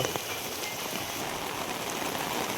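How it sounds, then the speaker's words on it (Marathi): Steady rain falls at a Konkan village home during the Ganesh festival, a dense, even patter and hiss of drops on surfaces lasting throughout with no voices. "पाऊस येतो पाऊस येतो पाऊस येतो"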